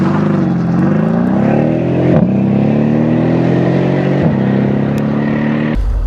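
A 2013 Mercedes-Benz SL63 AMG Roadster with twin turbos accelerates hard, its engine droning loud and close with a steadily rising pitch through two gear changes, then a sudden shift in sound at the very end.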